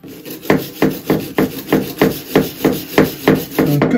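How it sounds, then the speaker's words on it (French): A copper rivet on a bow saw is brushed in regular rasping strokes, about a dozen sharp scrubbing sweeps at an even rhythm, close and loud with no speech. "Donc, on va se contenter de le brosser comme ça."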